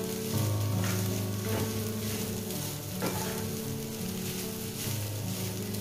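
Chicken with grated coconut and spices for Kerala-style chicken thoran frying in a pan, a steady close sizzle broken by repeated scraping strokes of stirring, with no talk.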